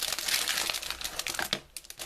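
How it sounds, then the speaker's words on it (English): Packaging crinkles close up with a dense, papery rustling that runs continuously and thins out toward the end, with no voices. "Sorry for the crinkling."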